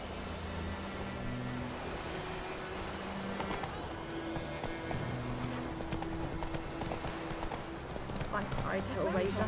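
A horse in The Witcher 3 video game trots with a steady, rhythmic clip-clop of hooves throughout, accompanied by game music and occasional speech.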